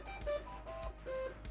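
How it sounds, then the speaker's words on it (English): A printer finishing a print job gives short electronic beeps and tones in a rhythmic sequence with soft mechanical thumps between them, close and moderately quiet. "Oh, that's my printer being done."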